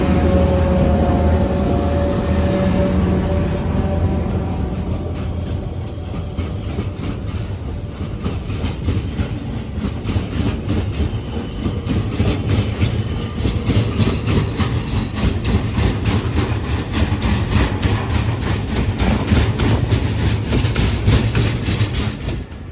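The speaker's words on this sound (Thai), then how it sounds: "มาแล้วนะครับกระบวนรถสินค้ากระบวนที่517" An SRT freight train, number 517, passes near Hin Lap station on a mountain line: a loud, sustained rumble with steady rhythmic clatter of wagons over the rails, close by and continuous throughout.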